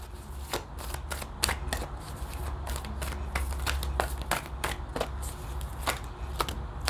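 Tarot cards are shuffled and pulled by hand in a quick, steady run of crisp riffling snaps and slides, fairly close, over a low constant hum, with no talking.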